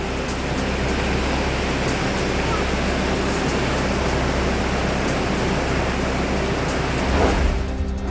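Kondeshwar waterfall in Badlapur runs after two days of heavy rain, giving a steady, loud, broadband rush of falling water that holds constant throughout.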